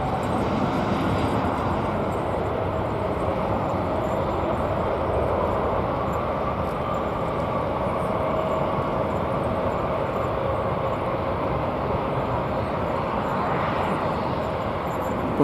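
Jet aircraft taking off at DFW Airport, a steady broad engine roar holding at constant loudness throughout with no clear rise or fade, heard from a distance.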